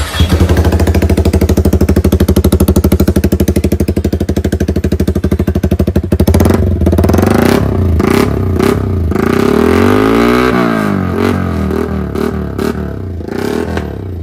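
Modified Yamaha R15 V4 motorcycle with the dB killer removed, starting up and idling with a loud, harsh rapid clatter, then revving in rising and falling surges, very close and alone.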